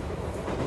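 Brief rumbling rush of a passing train from 13 Sentinels: Aegis Rim, a dense, continuous low roar with no voices over it.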